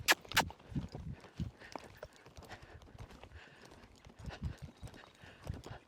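A horse's hooves shifting from a jog into a lope, with irregular soft thuds on soft ground at close range, quiet between beats, and a brief snort or noise at the start.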